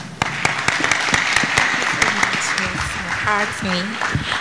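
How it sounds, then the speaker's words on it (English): A debate-competition audience stands and applauds, a dense, fairly close burst of clapping that carries through the whole stretch while a voice talks over it. "I ask for you to please stand and applaud with me"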